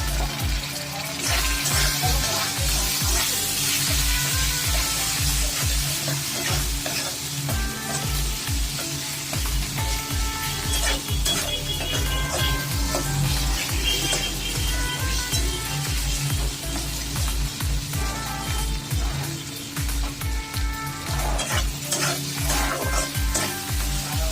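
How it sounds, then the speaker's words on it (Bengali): Chilli masala sautéed in a pan for a spicy catla fish head curry, a continuous loud sizzle with frequent rhythmic spatula scrapes and stirring throughout, close up with no talk. "দু মিনিট মতো কষানোর পরে দিয়ে দিলাম জল"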